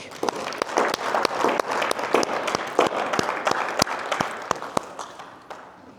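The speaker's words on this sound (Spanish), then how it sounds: "Vamos a dar un aplauso al Señor." A Spanish-speaking church congregation applauds during a worship service: dense, lively clapping with sharp individual claps standing out, tapering off toward the end.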